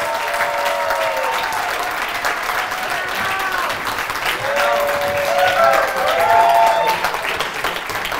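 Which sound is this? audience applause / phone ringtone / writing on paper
audience applause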